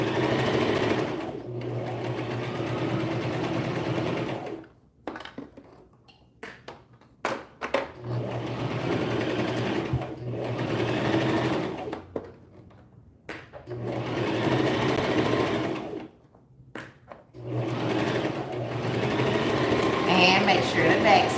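A sewing machine runs in several bursts of rapid mechanical whirring, stopping and starting with quiet pauses between stitches.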